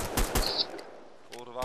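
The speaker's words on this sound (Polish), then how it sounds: "Jakieś słychać strzały." Rapid gunfire bursts from the online shooter game Survarium, loud and close in two short volleys, followed by a brief tonal in-game sound; no speech.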